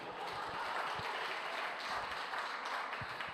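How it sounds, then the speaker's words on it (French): Faint applause from a congregation during a church sermon, a dense patter of many hands clapping steadily, heard from a distance with low thumps underneath. "Oui, vous pouvez applaudir."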